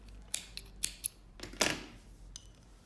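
Scissors snipping crochet yarn close by, several quick sharp clicks followed by one louder, longer cut and a faint final snip, on a quiet background.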